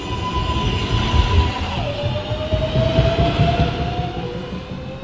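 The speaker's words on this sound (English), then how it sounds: "Downtown, local 1 train. Approaching the station, please stand away from the platform edge." A New York City subway 1 train, an R142 or R142A, rolls into the 215 Street station with a steady loud rumble and a sustained whining tone that drops in pitch partway through, filling the platform continuously.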